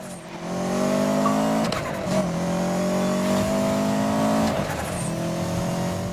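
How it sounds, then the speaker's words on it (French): A car engine revs hard and close, its pitch climbing through repeated pulls with brief breaks between them, loud and sustained over about six seconds. "Je m'attendais pas à un bruit comme ça de cette bagnole."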